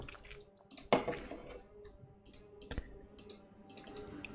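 Sharp clicks of a mouse or keyboard picked up by a stream microphone during a Heroes of the Storm session, scattered irregularly with one louder knock near the start, close and fairly quiet over low room hiss.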